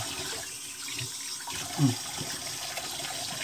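Water running from a tap into a sink while a face is wetted before a wet shave, a steady close splashing rush with a brief louder splash midway.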